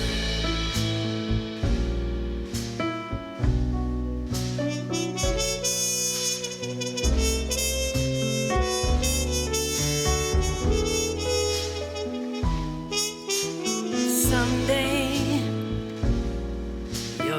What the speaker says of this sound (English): this features some beautiful trumpet session work